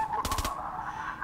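Candy Corn LMG in Fortnite Save the World firing a quick burst of about five rapid, crackly shots with a cackling laugh-like tone, close and loud over a steady background hum.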